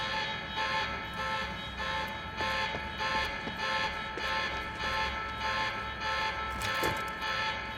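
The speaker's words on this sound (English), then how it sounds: "Alarm's not gonna make my life any easier." Alarm blaring inside a building in the video game Quantum Break, a steady pulsing electronic tone repeating about every half second, loud and continuous under faint ambient game noise.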